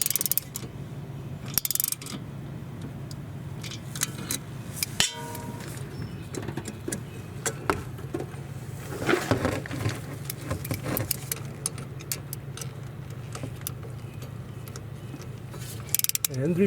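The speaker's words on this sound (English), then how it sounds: "to secure the nut and tighten the bolt" A wrench works a bolt on the front brake caliper of a Scion tC, giving soft clicking mechanical ratcheting and metallic clanks over a low steady hum, with a few sharper knocks.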